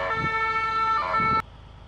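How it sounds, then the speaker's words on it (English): An ambulance siren sounds in a bus-driving simulator game, two clear wailing tone cycles at moderate level before it cuts off abruptly, leaving faint background hum. "an ambulance arrives swiftly"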